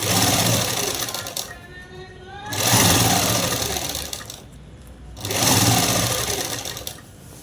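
A sewing machine sews a man's shirt in three close, whirring bursts that rise and fall with short breaks between them, while someone speaks quietly during the pauses.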